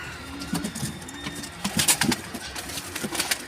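Pigeons coo in low, throaty bursts repeating throughout, with a faint rustle and a higher chirp now and then in the background.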